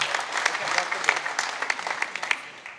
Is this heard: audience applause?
yes